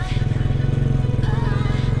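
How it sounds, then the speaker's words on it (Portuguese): Motorcycle ridden on the road, its engine a steady close rumble with a rapid regular pulse throughout, while someone talks over it. "E tamo aí de volta, andando de moto."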